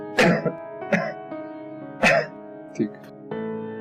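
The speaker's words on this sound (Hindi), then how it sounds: "खांसिएगा?" A patient coughs and clears their throat several times during a doctor's chest examination, with loud, sharp close bursts spaced about a second apart, then a low voice speaking briefly.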